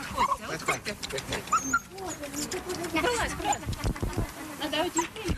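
A scarred, hungry dog just released from a chain whimpers and yelps in short, uneven bursts, fairly close, amid rustling movement and people talking nearby.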